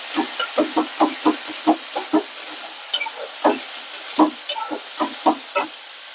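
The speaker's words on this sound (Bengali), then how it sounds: "মশলাটা প্রায় কষানো হয়ে গেছে আমার এটা।" Spice paste with turmeric being fried in a pan for a fish curry, with a steady run of close, rhythmic scrapes and taps of a spatula over a faint sizzle and no talking.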